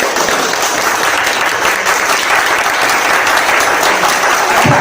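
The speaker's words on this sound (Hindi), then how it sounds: "तो अपने लिए एक बार जोरदार ताली बजा सकते हैं।" Seminar audience giving strong applause, continuous loud crowd clapping filling the whole stretch without pause.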